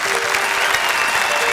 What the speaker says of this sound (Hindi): ताली बजाओ जरा इनके लिए, ताली बजाइए।